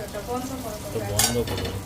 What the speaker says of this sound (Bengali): এই দেখুন করলা ভাজা হচ্ছে